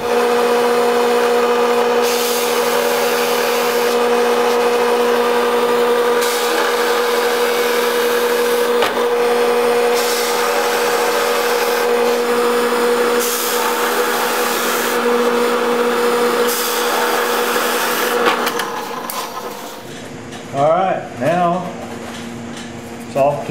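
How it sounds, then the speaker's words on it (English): A drill press runs steadily for about twenty seconds while cutting one-inch circular holes in a kiteboard core, with a sustained whine. It stops near the end and a few short knocks follow. "we're going to go to the drill press. We're going to simply uh, cut one inch uh, circular holes"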